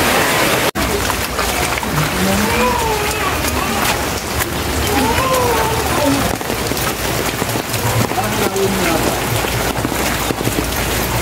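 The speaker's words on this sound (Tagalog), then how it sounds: "Sobrang lakas ng ulan, no?" Heavy rain pours steadily in a dense, constant roar, with faint voices and a sharp knock early on.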